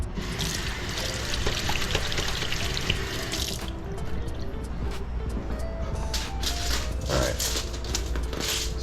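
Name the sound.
wetting a work surface with water before pizza making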